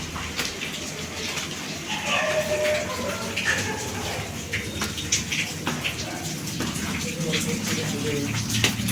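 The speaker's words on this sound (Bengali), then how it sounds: "দেখো কি জল, সিঁড়িতে জল আসছে" Water flows down the stairs of a flat under construction, a steady rushing wash that sounds close and continuous while a person talks over it.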